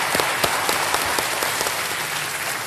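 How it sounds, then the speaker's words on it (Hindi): Studio audience applause on a televised quiz show as a contestant quits the game. Many hands clap at once in a loud, continuous, crackling roar that stays steady for the whole stretch, with no speech over it. "तालियां बज जाएं इनके लिए।"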